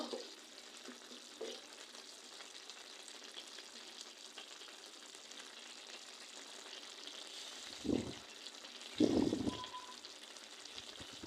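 Dried fish curry with potato, beans and gourd leaves sizzling and frying gently in a pan, a steady soft crackle with a couple of brief louder stirring scrapes, no talking.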